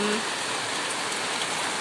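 Rain falls in a steady, dense hiss of drops on surfaces, even and unbroken through a brief moment.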